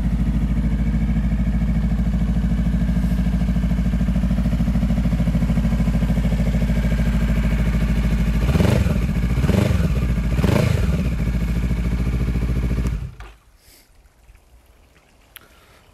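A 2018 Honda CMX500 Rebel motorcycle engine idles with a steady loud rumble, blips through three quick revs, then cuts off, leaving near silence.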